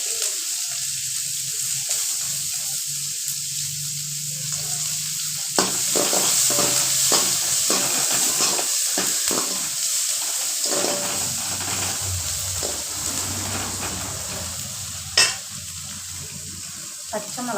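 Onions and mustard seeds fry in a hot pan for semiya kichadi, a steady sizzle broken by repeated clacks of a spoon stirring, close and fairly loud with no talking.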